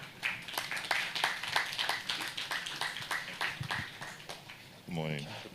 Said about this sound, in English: Please give us a round of applause for Mr.